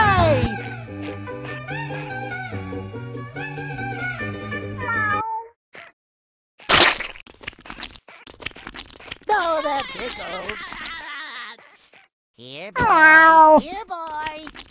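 Gary the snail from a SpongeBob addon in Minecraft PE gives several loud, close meows in quick succession, mixed with game music and crunching sounds.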